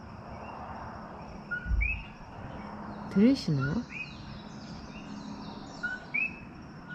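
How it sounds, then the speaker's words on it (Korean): Coqui frogs call at night, with faint, repeated high chirping two-note calls scattered across a quiet background, while a person speaks briefly in the middle. "코키 코키 하는 소리로 울어서 이름이 코키 개구리랍니다"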